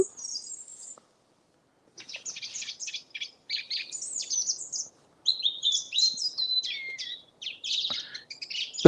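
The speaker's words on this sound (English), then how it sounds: "The birds are doing us proud tonight," Birds sing at night in a quiet setting in Alnmouth, with bursts of high chirps and warbling phrases separated by short pauses, fairly close and clear.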